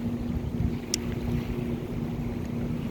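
A low, steady engine drone from a heavy cargo ship running on fuel oil hums beneath broad wind and water wash, continuous and unbroken.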